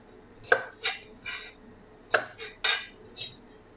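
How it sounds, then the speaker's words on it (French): A knife slices a scraped carrot on a cutting board while vegetables are prepared for a homemade broth, giving seven sharp, close chopping strokes in two quick bursts with short pauses between them. "j'ai gratté ma carotte. Ensuite, je l'émince."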